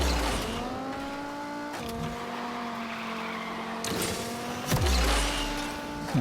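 Race cars in Asphalt Unite roaring off the starting line, several engines revving hard with steady rising tones, a brief drop and a fresh surge of engine noise near the end, loud and continuous with no talk.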